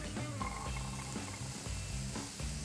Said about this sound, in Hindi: प्याज को, गार्लिक को हमें बहुत ज़्यादा भूनना नहीं है, बस हल्का हल्का भूनेंगे 1 मिनट के लिए।